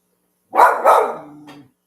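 A dog gives two close, loud barks followed by a softer whimpering whine, heard alone with no talking.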